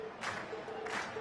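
Crowd applause and cheering from an audience after a class performance in the video game Cold Steel, two broad bursts of clapping noise over steady background music, moderately loud.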